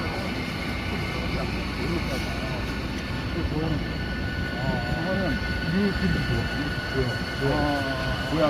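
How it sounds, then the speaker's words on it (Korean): Inside a Ryanair airplane cabin on a flight to London, a loud, constant engine drone fills the space while people talk over it nearby. "자, 이 비행기를 타고 런던 공항으로 갑니다."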